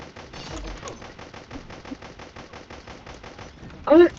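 Rapid automatic gunfire from a weapon in an online shooter video game rattles in quick bursts throughout, with a short louder burst near the end.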